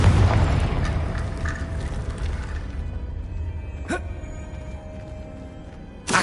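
A Confringo fire spell bursts in the Hogwarts Legacy video game, a loud boom that opens the moment and fades under steady game ambience, with two more sharp bursts near the end.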